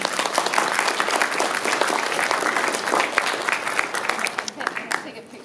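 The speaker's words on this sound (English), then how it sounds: "Let's give Robin a big round of applause." An audience bursts into sustained applause at a film screening reception and Q&A, many hands clapping densely and loudly for several seconds before thinning slightly at the end.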